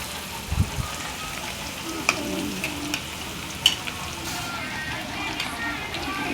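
Ivy gourd curry fries in a pan with a soft, continuous sizzle, broken by occasional sharp clicks and scrapes of stirring.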